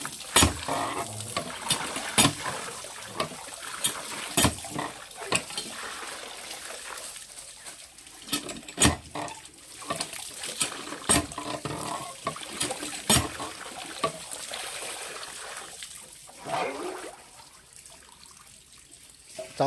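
Water splashes and trickles close by while pulao rice is washed in a kitchen on a cold winter day. The sloshing and dribbling are continuous and irregular, with sharp clatters scattered throughout.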